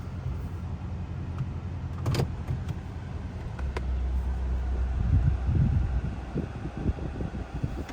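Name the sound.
2024 Toyota Tacoma TRD Sport truck driving off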